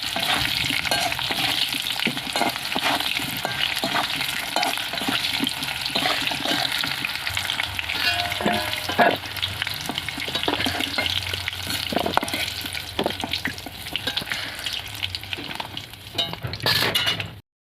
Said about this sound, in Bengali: এই যে পটলে দেখুন লাল লাল করে ভাজা হয়ে গেছে।